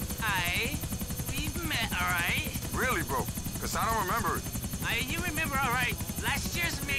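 A helicopter in GTA IV drones steadily beneath a continuous stream of talk, its low rotor hum holding at an even level throughout.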